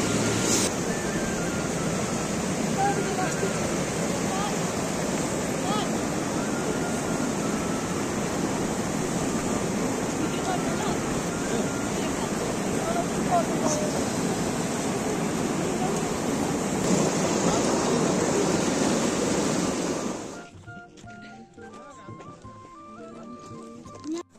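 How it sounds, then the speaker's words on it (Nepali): The Kali Gandaki river rushing at the Kagbeni confluence in Mustang, a loud, dense, unbroken roar of flowing water for about twenty seconds before it cuts away to quieter sound. "यहाँ सङ्गम स्थल भएर यता बग्ने चाहिँ काली गण्डकी नदी"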